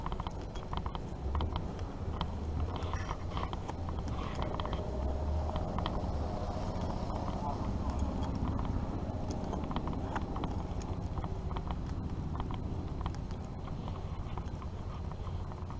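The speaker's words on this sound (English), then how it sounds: "This is the small engine area." Small old engines running at a threshing show, a steady mechanical clatter of many rapid knocks blending into a continuous chugging din, close and constant throughout with no talk.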